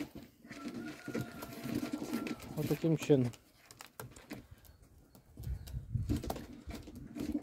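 Yellow Czech show pigeons coo and rustle up close while being released into a new pigeon loft. Someone speaks briefly over the birds, and handling and shuffling noises follow.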